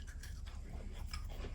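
A crunchy snack is bitten and chewed up close, with a few crisp crunches over a dense, noisy chewing texture and no talk.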